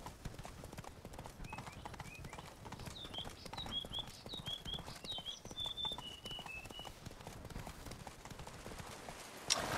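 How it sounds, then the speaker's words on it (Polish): A horse gallops in The Witcher 3: Blood and Wine, with steady rapid clip-clop hoofbeats throughout, accompanied by chirping birds in the background and a brief bump at the end. "Także chodź na konia i lecimy w tamte okolice."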